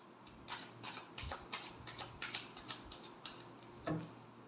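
Tarot cards being shuffled for a Scorpio love reading, a fast run of soft papery riffles and taps in steady rhythm, close and fairly quiet, ending with a slightly louder snap of the deck.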